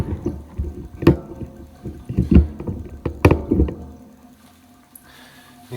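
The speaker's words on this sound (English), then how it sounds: "letting the water out of the sink here." Water draining out of a bathroom sink after shaving, a murky gurgling rush with a few louder sloshing bursts that thins to a quiet trickle near the end.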